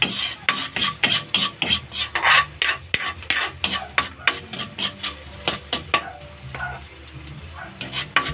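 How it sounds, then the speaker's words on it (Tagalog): Food stirred in a noisy frying pan (kawali), with rapid rhythmic scraping and clanking strokes of a utensil over a constant sizzle, close and busy with no talking. "Kailangan maingay yung kawali."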